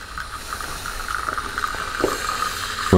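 A Profitec Pro 800 hand lever espresso machine runs a shot with a steady soft hiss and faint trickle, ending in a brief clunk.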